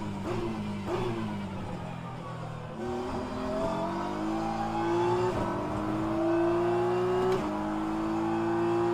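Race car engine in the rFactor 2 sim during a virtual endurance championship practice session, droning steadily and climbing in pitch through repeated upshifts, with brief dips between gears and a loud, continuous presence throughout.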